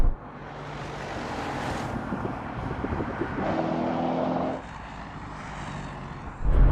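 Mercedes-AMG G63 SUVs, old and new, drag racing: a loud engine roar with wind rush builds steadily, then the sound drops away before a fresh surge at the end.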